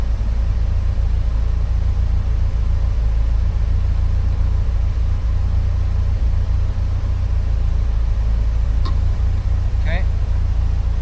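A built 2.5L Subaru engine from a Bugeye, running 16 pounds of boost, drones at a steady loud rumble throughout with no breaks, and a couple of faint brief chirps come near the end.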